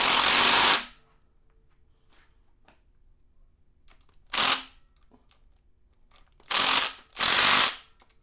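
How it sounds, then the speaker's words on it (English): Eastwood torque wrench ratcheting on rocker arm bolts of an LS7 engine in a Chevelle build, four loud close bursts of rapid clicking separated by silence, with no talking. "22 foot-pounds on the Eastwood torque wrench."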